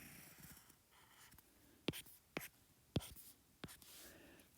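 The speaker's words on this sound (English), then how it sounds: "what I'm going to do is sketch an isosceles triangle" A pen scratches out an isosceles triangle on paper, about four quick distinct strokes in uneven rhythm, close but soft, over a faint hiss of room noise.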